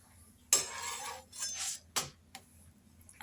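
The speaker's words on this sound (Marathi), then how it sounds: "आता मी पलटवून घेते." A rice bhakri flatbread, made with beetroot juice, is flipped on a hot pan, producing a few sharp, close clinks and scrapes with soft sizzling in between.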